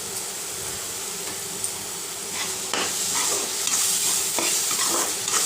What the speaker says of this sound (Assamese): ধুনীয়াকৈ বিলাহীটো গলি গৈছে আৰু মছলাখিনিও ফ্ৰাই হৈ গ'ল।